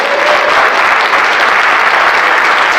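Steady, loud applause from an audience for young martial arts students newly promoted to yellow belt in the Aikido Bukai system, dense clapping filling the whole stretch without a break.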